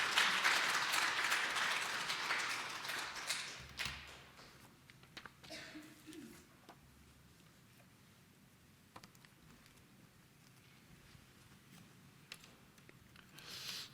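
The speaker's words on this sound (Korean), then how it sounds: "나오실 때 박수로 우리 뜨겁게 환영하도록 하십시다." A church congregation claps for a guest pastor during a Sunday service. The applause is dense and fairly loud at the start, then thins out over about four seconds into scattered claps and quiet room noise.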